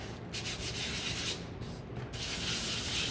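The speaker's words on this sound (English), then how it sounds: "So I'm just gonna give these a quick sand up at the top." Steady rough sanding on the top of a wooden broom handle, a close, continuous abrasive rubbing with brief shifts in stroke, no voices.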